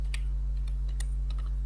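Light clicks of typing on a computer keyboard, a few separate keystrokes spaced irregularly over a steady low hum, close and fairly quiet, with no talk.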